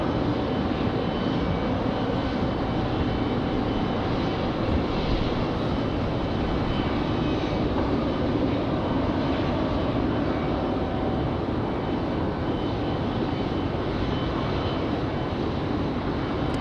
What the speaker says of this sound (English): Get this Air France Dreamliner off and going.